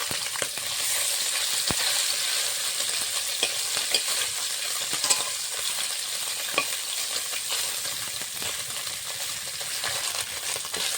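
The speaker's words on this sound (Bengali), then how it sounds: "মাছ ভাজার জন্য কড়াইতে সর্ষের তেল দিয়ে দিচ্ছি" Fish frying in hot mustard oil: a loud, steady sizzle throughout, with occasional sharp clinks from a utensil against the pan.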